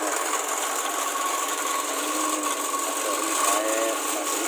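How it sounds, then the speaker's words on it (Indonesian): Concrete crack injection machine running nearby, a steady loud mechanical whir and hiss with grinding texture throughout, no talk. "ini mesin untuk injek"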